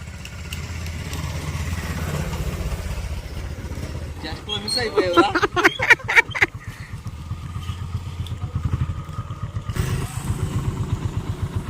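A motorcycle engine idles with a low, steady rumble, then revs in a few loud, rattling bursts before settling back to idle, at a Sankranti festival outing in Bapatla.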